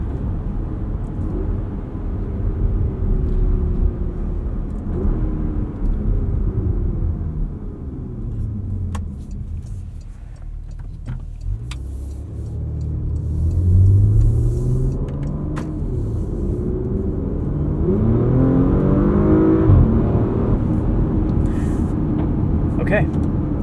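A 2022 Porsche Macan S with a dual-clutch transmission under way, its engine droning low and rising and falling through gear changes, with someone talking over the engine noise throughout.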